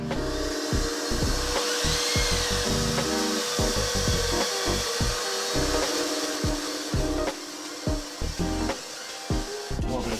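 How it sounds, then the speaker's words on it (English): A small hand sander works over drywall seams inside a shipping-container tiny home, giving a steady, close abrasive rasp with rhythmic back-and-forth strokes that persists throughout, with no talking. "Maybe I should just focus on sanding the seams and I'll get these with a little hand sander."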